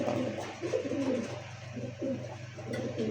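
A khaki-necked pigeon coos nearby in low, soft, repeated throaty phrases, with steady background hum and no talking.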